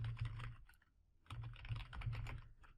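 Typing on a computer keyboard during Windows Server PowerShell work: two bursts of rapid, close keystrokes separated by a brief pause, clicking steadily with no voice present.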